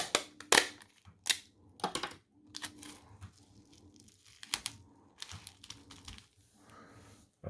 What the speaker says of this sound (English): You're going to tape this closed.